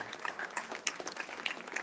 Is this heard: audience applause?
yes